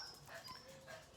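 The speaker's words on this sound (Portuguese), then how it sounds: "Para de latir no portão." A dog barks and yips at visitors at a house gate, a short faint burst of barking heard at a distance.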